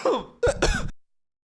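A harsh, close cough in two quick bursts, the second rougher and longer, then sudden silence; no talking.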